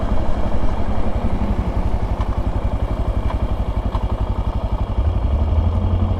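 Suzuki DRZ dual-sport motorcycle with an FMF PowerBomb header and a JD jet kit, its single-cylinder engine running with a steady, loud, close putter, a few faint pops coming through the drone.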